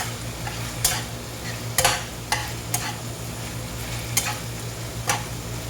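Potato is mashed and stirred into a simmering chicken curry, with a few soft scraping and squishing strokes in the pot over a steady low hum and light sizzle, nearby and without voices.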